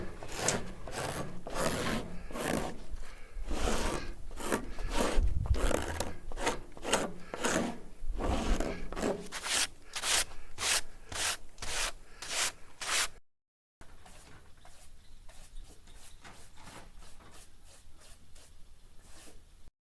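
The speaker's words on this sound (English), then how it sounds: "To scrape off the sap and sawdust scabs, I just used my work knife." A work knife scrapes sap and sawdust scabs off a wooden floor-joist plank for a mountain cabin loft in a steady run of rhythmic, close rasping strokes, then a short break and fainter, sparser scraping.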